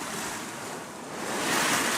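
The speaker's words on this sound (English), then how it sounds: "waves breaking through here, so we decided we'll just go around it." Ocean waves break over crested shallows near Crooked Island under a southeast wind, heard from a boat as a continuous roaring wash of surf that swells louder toward the end, mixed with wind buffeting the microphone.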